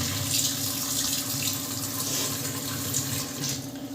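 Steady hiss of water running from a kitchen tap into a sink, continuous and close, with slight dips as the flow weakens; no talking.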